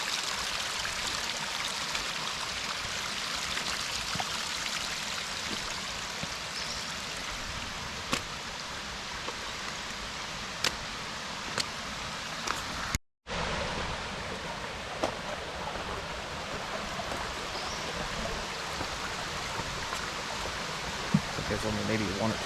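A small tributary stream flows down into a larger stream at Short Springs Natural Area in Tennessee, giving a steady, close, broadband rush of water with faint droplet ticks throughout.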